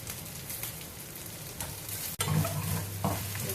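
Curry leaves dropped into hot oil in a pan while cooking soya sundal, a loud close crackling sizzle that jumps sharply as they go in and keeps frying steadily.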